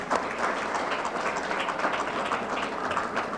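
An audience at an IAOMT meeting in Colorado Springs, Colorado applauds the speakers in a steady, even wash of many hands clapping that continues throughout.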